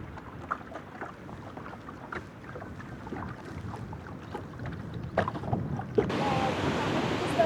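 The Umngot River flows at Dawki in Meghalaya, a soft, continuous wash of moving water with faint lapping and knocks close by that turns to a broader, brighter rush in the last second or so.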